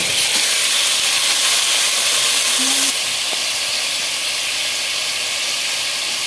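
Drumstick (moringa) pieces and potatoes fry in a pan for a rohu fish curry, giving a loud, continuous hiss and sizzle that drops to a softer, steady level about halfway through, with no one speaking.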